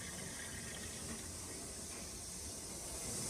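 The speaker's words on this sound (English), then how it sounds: "Toilet still sounds like it's thinking." A toilet cistern refills with a steady, faint broadband hiss of running water that holds evenly throughout, with no voices.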